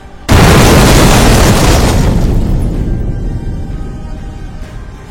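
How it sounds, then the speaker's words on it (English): A plane crashes near a runway in one sudden, very loud explosion, a massive boom that rumbles and slowly fades over several seconds. "The crash is so powerful that pieces of the plane scatter in all directions, creating a large crater near the runway."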